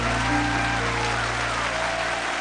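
Audience applause fills the hall at a 2010 Super Idol televised singing competition after a contestant's performance: a steady, dense wash of clapping with a faint tonal music bed underneath, no voices.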